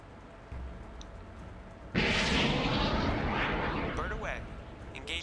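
Missile launch in the Dangerous Waters naval combat game, a Standard Missile 2 fired from a ship: after a quiet hum and a soft thump, a sudden loud roaring blast of rocket noise erupts and slowly fades, with a voice speaking briefly.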